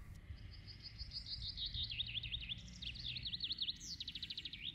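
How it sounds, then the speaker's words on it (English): Birds chirp and trill in quick repeated phrases, fairly distant, over a low rumbling background and faint insect buzz, in a sunny Swedish forest in the morning. "I love the sound of birds in the morning."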